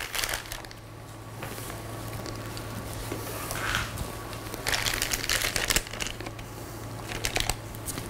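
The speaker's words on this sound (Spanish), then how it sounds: "Cerramos nuestra manga." A plastic piping bag filled with chocolate is twisted closed in a pastry kitchen, giving continuous close crinkling and rustling that swells in the second half over a steady low hum.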